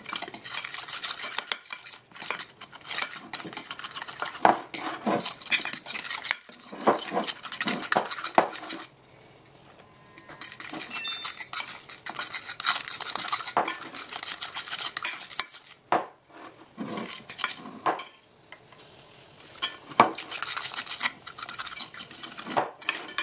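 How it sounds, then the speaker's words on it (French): A spoon works flour and baking powder into strawberry-banana quinoa muffin batter in a bowl, with close, repeated scraping and clinking strokes in bursts, separated by a few short quiet pauses. "je mélange petit à petit pour ne pas avoir de grumeaux"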